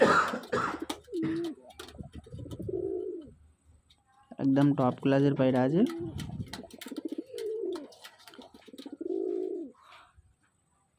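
Old-bloodline pigeons coo in several distinct bursts, deep and throaty, the loudest clustered midway, with a person talking between and over the calls.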